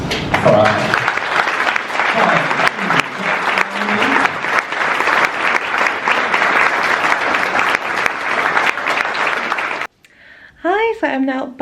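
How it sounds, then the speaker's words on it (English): A large crowd at a theatre press launch for the musical 42 Balloons at the Lowry claps loudly and steadily, a dense wash of applause that cuts off abruptly, followed by a brief burst of speech. "Please give a huge round of applause for our..."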